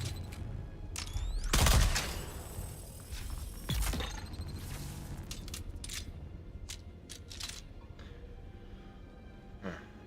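Gunfire in the video game Dune comes in bursts, a loud volley early and another a couple of seconds later, then scattered sharper shots and clicks over a steady low background.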